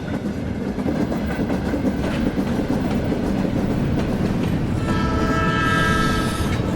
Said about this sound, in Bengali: ট্রেন দমদম ছেড়ে বেলঘড়িয়ার দিকে এগোতেই হঠাৎ মাঝ রাস্তায় একটা ঝটকা দিয়ে দাঁড়িয়ে পড়ল।